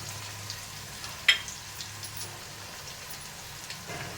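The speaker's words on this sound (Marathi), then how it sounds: "आपण हा जो मसाला वाटून घेतलेला आहे आता आपण हा टाकूया" Ground spice paste dropped into hot oil in a pan for Rajasthani kadhi, giving a soft, steady sizzle with faint crackles and a single sharper pop, fairly quiet and close, no voices.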